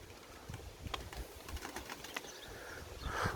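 A tumbler pigeon takes off with a quick run of flapping wingbeats, soft clapping bursts over faint outdoor background noise, fairly quiet and close, with a brief louder flurry at the end.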